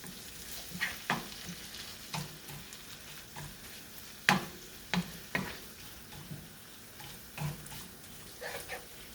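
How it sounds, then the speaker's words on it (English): Pork stirred in a frying pan for spicy pumpkin noodles: a quiet background sizzle broken by intermittent scraping and clinking strokes of a utensil against the pan, spaced irregularly across the stretch. "Give that a nice stir around as well."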